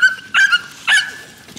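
American pit bull terriers in a yard giving short yips and barks over a steady high-pitched whimpering whine, close and loud.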